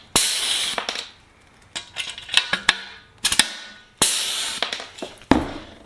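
A pneumatic rivet gun sets rivets on an aircraft aileron counterweight during a Sonex kit build, giving sharp close hissing bursts with metallic snaps, several in a row with short pauses.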